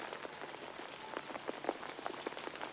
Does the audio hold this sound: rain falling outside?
yes